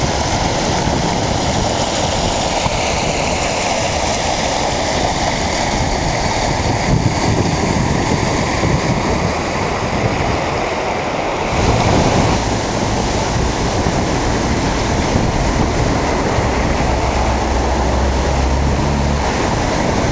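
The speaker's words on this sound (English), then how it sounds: "This is normally a little tiny creek. It's probably twice, well no, 5-6 times its normal size." A flooded creek, swollen to several times its normal size, rushes with heavy water roaring steadily and loudly up close, a dense continuous churn with no pauses.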